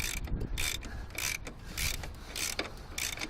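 A power steering/alternator belt on a 1997 Subaru is tightened with a hand tool, giving repeated close ratcheting and grinding bursts in an uneven rhythm, roughly six strokes, with no talk.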